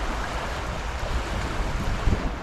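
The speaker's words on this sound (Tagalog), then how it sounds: "Kaso malakas ang agos." Strong river current rushing around rocks during solo fishing, a steady broadband wash of flowing water with low rumble and wind buffeting, close and continuous for the whole moment with no talk.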